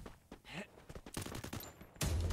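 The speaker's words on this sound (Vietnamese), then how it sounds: "Tem bạn bắt đầu bắn súng sạc anh em ơi." Rapid bursts of charged-gun fire from a 6v6 shooting video game match, repeated volleys that build into a loud, dense barrage near the end, with no talk over them.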